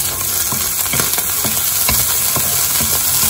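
Shrimp frying in a pan with green chili and garlic, a steady loud sizzle with crackling pops and occasional stirring scrapes, close up, no voices.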